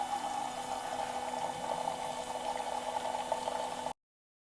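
Hot water streams steadily from the outlet of a Meraki espresso machine during descaling, a continuous hissing, bubbling flow with a faint pump hum that runs evenly for about four seconds, then cuts off abruptly.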